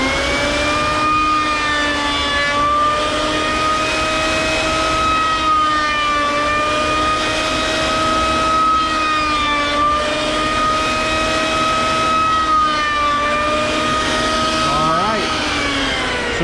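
A router table whines steadily as it shapes the end grain of a raised panel, a loud continuous high-pitched motor tone with shifting harmonics as the cut progresses, ending with a short rising sweep.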